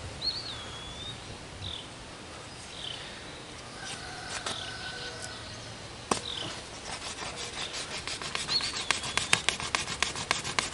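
A wooden knife sawing back and forth through a piece of wood makes faint rasping, rubbing strokes, growing into quicker, louder repeated scrapes in the second half, with no talking.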